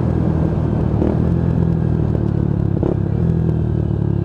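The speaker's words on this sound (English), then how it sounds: "You can just hear those pops and bangs coming off of that exhaust can" A Lexmoto Tempest GT 125 motorcycle engine drones loudly and steadily while riding, with a few sharp crackling pops from the exhaust can as it downshifts, no talking.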